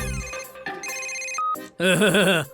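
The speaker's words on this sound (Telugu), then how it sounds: "ఒక ఫోన్ వస్తే దాన్ని కూడా నేనే తీయాలి" A cartoon phone ringtone plays loud and near, a bright electronic melody of shifting tones ending in a warbling burst.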